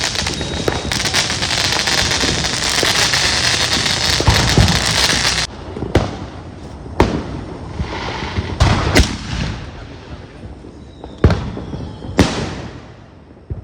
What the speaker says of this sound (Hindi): तुम पटाखे देख।